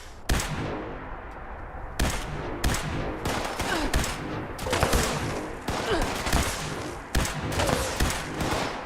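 Rapid bursts of video game gunfire, including machine-gun fire and heavy shots, in a fight against super mutants, loud and dense with short gaps throughout.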